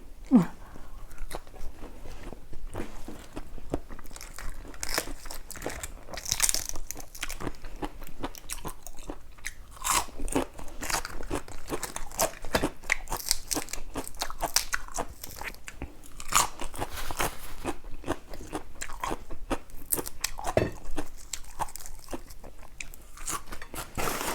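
Loud, close crunching and chewing of spicy seafood som tam papaya salad, a steady stream of crisp bites running without a break and with almost no talk.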